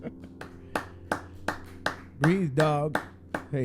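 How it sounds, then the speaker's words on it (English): Sharp, evenly spaced hand claps ring out one after another in a roomy space, about a dozen in all, with a sung or vocal passage rising briefly in the middle. "I'm clapping for myself"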